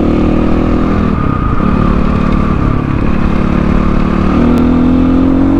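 A CX 250 SE dirt bike cruising on a highway, a loud steady engine drone with shifting pitch and wind roar, no talking.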